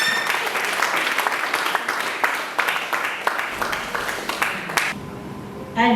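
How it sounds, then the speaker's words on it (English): Audience applause at a forum on electoral integrity, with dense, steady clapping for about five seconds before it thins out and a voice briefly comes in at the end. "Please clap."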